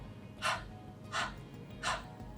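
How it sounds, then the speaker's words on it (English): Kapalbhati yoga breathing, three sharp forceful exhales through the nose at an even rhythm about every 0.7 seconds, close and clear with quiet passive inhales between. "We're putting tremendous effort on the exhale and just letting the inhale happen."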